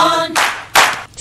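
Two quick bursts of hand clapping, close and loud, following a brief held tone.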